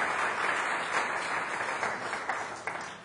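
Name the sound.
audience applause for a sponsor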